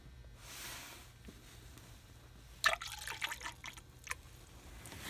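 Coolant is poured into the cooling system of a 2004–2009 second-generation Toyota Prius, a faint trickle followed by quiet gurgling, dripping and bubbling, heard close with no talking.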